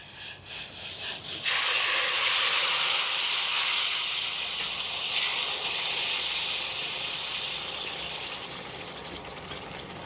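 Water hits a hot cooking pan on a stove and bursts into a loud, sustained steamy hiss that begins after a few soft clatters and slowly eases while staying strong.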